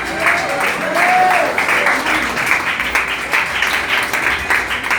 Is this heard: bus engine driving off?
no